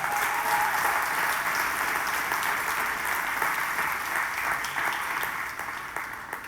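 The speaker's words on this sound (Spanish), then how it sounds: "Y yo quiero que usted le dé un aplauso a Dios por su palabra." Church congregation applauding God for his word, a steady broad wash of many hands clapping together that carries on throughout and tapers slightly toward the end.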